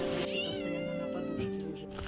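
Several cats meow and caterwaul at close range in a home in Toretsk that keeps many cats and dogs, with sustained, overlapping cries throughout.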